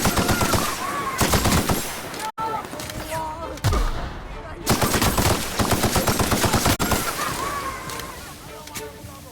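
Rapid automatic gunfire from The Outer Worlds video game, loud bursts of machine-gun and rifle shots in dense rattling volleys with short gaps, under a voice talking.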